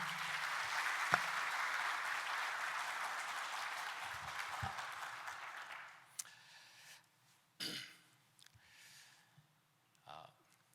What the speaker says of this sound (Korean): 우리 목사님 나오실 때 따뜻한 환영의 박수 부탁드립니다